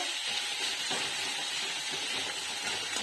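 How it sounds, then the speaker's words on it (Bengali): Onions frying in hot white oil in a wok, a steady, close, bright sizzle and hiss that holds evenly throughout with no talking. "কড়াতে একটু সাদা তেল দিয়ে দিলাম, এটা গরম হয়েছে, এবার পেঁয়াজগুলো দিয়ে দিলাম। পেঁয়াজগুলো একটু ভাজবো।"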